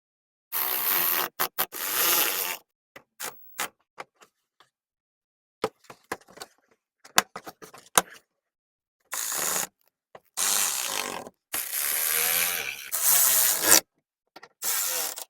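Screws being fastened on a headlight of a 2007-2011 Toyota Camry give short bursts of ratcheting and rubbing, several separate runs between quiet gaps, close by and without speech.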